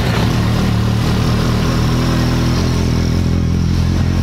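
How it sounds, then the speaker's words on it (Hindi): Motorcycle engine idling steadily with a low, throbbing mechanical clatter, loud and close, running alone without voices. "बट देन बाइक स्टार्ट करते हैं."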